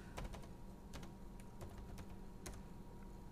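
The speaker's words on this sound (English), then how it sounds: "type in version" Keys tapped on a computer keyboard while entering a command into flight controller configuration software, a handful of crisp close clicks spaced irregularly over a quiet background.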